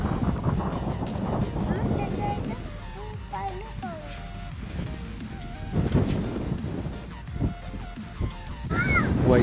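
Wind blows across Lake Illawarra in New South Wales, Australia, on an evening walk, a steady broad rumble buffeting the microphone throughout, with crows cawing now and then and people talking nearby.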